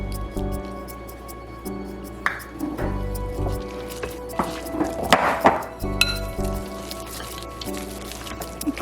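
Sourdough focaccia dough being mixed by hand in a bowl, soft wet slurping and squishing with occasional clinks against the bowl, close and moderately loud, with a low background hum.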